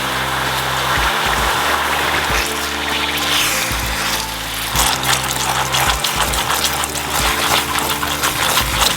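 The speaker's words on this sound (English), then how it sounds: "Once it gets brown and thicker, we're going to add 40 milliliter of water." Water poured through a strainer into hot browned caramel in a pan, a steady loud sputtering gush and hiss lasting the whole stretch with no talk.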